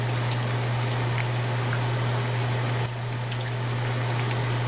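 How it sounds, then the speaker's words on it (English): Water running from a kitchen sink faucet into an empty tomato paste can, a steady close splashing stream with a low hum underneath and a brief shift in tone partway through. "Just fill it with water"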